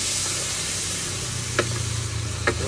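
Soup stock poured into a hot wok while seafood cooks, giving a steady close sizzle and hiss with two short bright bursts of spattering.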